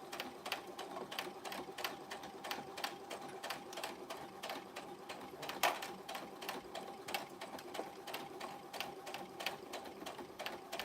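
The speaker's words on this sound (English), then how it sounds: "I can't bring the sewing machine upstairs." A sewing machine runs steadily with rapid, evenly spaced needle clicks and a mechanical whir, close and fairly loud, with one brief louder knock partway through and no talk.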